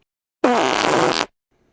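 A single loud fart lasting about a second, close and isolated, during a Minecraft murder mystery game session.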